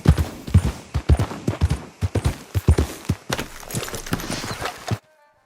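Horse hooves in a video game clip-clop in a fast, steady gallop rhythm, with close, sharp thuds repeating for about five seconds before stopping abruptly.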